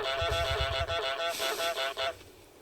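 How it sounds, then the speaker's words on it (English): A cartoon goose in Untitled Goose Game honks repeatedly, a series of loud, nasal, brassy honks in quick rhythm, close and alone with no talk. "Press Y to honk."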